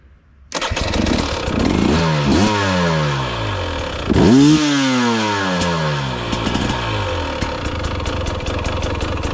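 A KTM 300 TBI two-stroke dirt bike running a test ECU tune cranks and fires up, then revs in several rising and falling bursts before settling into a loud, crackly idle close by.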